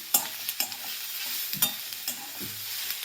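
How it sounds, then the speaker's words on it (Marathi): Cloves and cinnamon pieces stirred in a frying pan over a steady sizzle, with a spoon knocking and scraping against the pan several times, close and without talk. "यानंतर 3 ते 4 लवंगा आणि 3 ते 4 दालचिनीचे तुकडे यामध्ये टाकायचे. मिक्स करून घ्यायचे बघा."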